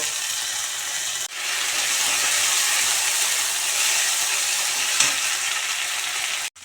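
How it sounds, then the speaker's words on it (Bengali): Panch phoron, dry red chilli and bay leaf hit hot oil for tempering, giving a loud, dense, continuous sizzle and hiss up close, with a brief clatter near the start and another near the end. "পাঁচ ফোড়ন শুকনো লঙ্কা তেজপাতা দিয়ে দেব ফোড়ন এসে গেছে"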